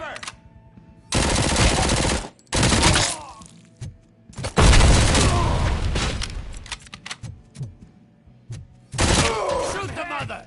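Gunfire bursts in a shootout, with loud machine-gun-like volleys and single shots in several clusters, shattering glass, and shouted voices between the bursts.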